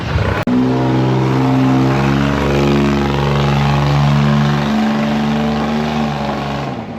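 A heavy vehicle of about two and a half tonnes rolls across a wooden plank bridge in Vang Vieng, Laos, its loud, steady engine drone close and unbroken for several seconds after a sharp knock at the start.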